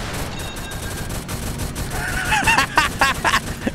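Gunfire in the Roblox game Brookhaven RP crackles in a quick burst of several sharp shots near the end, over a busy background of game noise.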